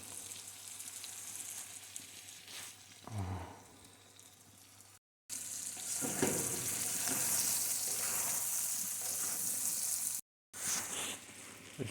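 Carrot, pepper, tomatoes and onion stew in a bograch pot with a constant soft sizzle and bubbling, interrupted by occasional stirring scrapes and two brief cuts to silence.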